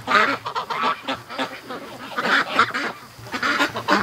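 Muscovy ducks give repeated hoarse, breathy calls close by, overlapping bursts that come thick and fast across the whole stretch.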